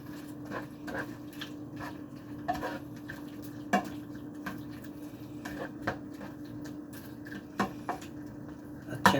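A spoon stirs spicy beef offal adobo with bay leaves in a pot, with repeated soft scrapes and clinks against the metal over a steady low bubbling hum, moderately close.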